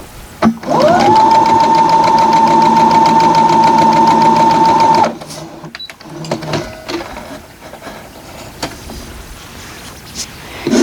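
A sewing machine stitches quilt block pieces in one fast, steady whirring run of about four seconds, then stops. Faint handling noises follow.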